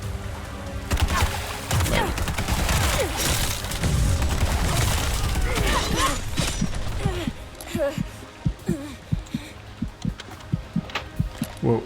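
Combat in Bright Memory Infinite: a dense, loud barrage of gunshots and blade slashes, thinning into separate sharp hits and impacts, with voice-like game sounds mixed in.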